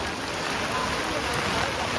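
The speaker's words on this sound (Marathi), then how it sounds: "शाळा सुटाची वेळ झाले बारा वाजले आणि पाऊस बघा तुम्ही बघू शकता" Rain pours steadily around midday outside a school, a dense, even hiss of falling drops that stays loud and constant throughout.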